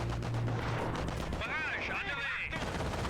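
Constant heavy gunfire mixed with an artillery barrage in a war video game, dense and loud throughout, with voices faintly mixed under the din.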